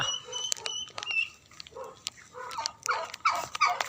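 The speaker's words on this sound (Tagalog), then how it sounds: "Ang ingay ng mga pabo" Turkeys gobble in rapid, rattling bursts against a busy barnyard background, with other fowl calling nearby.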